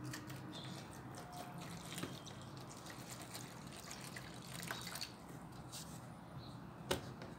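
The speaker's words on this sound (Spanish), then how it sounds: "Lo vamos a llenar de agua." Water trickles and splashes steadily into a container, with a constant gurgling flow and a few sharp clinks or drips near the end.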